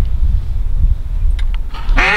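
A hen duck on a lake gives loud, harsh quacks close by near the end, following a stretch of low outdoor rumble.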